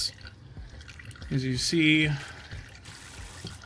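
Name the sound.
transmission fluid dripping from removed Chrysler transmission pan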